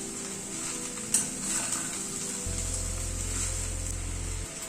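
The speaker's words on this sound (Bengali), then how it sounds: "সবকিছুকে একবার মিশিয়ে দিচ্ছি" Spiced dish being stirred in a frying pan after garam masala and a little powdered sugar go in, a steady soft sizzle with faint scraping, a brief knock near the start and a low hum underneath.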